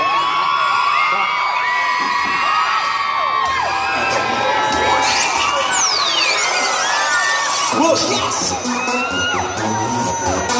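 A concert audience at a mini concert in Siam Square One, Bangkok, screams and cheers loudly, with high shrieks and whoops layered over crowd noise and some banging, continuous and close.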